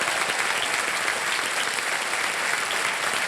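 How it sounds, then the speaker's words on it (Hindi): A studio audience on a quiz game show breaks into loud, sustained applause for a contestant's parents, dense clapping throughout with no voices over it. "जोरदार तालियां बज जाए इनके लिए।"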